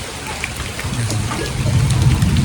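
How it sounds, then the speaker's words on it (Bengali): Heavy morning rain falls steadily onto a roof and a jackfruit tree, a dense continuous patter that grows slightly louder toward the end. "পাক্কা 9টা বাজে থেকে বৃষ্টি হইতেছে।"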